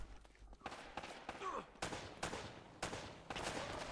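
Gunshots from a gun in Uncharted: Drake's Fortune Remastered ring out in a rapid volley, roughly eight sharp cracks in quick succession with echoing tails, loud and close, with faint game sound underneath.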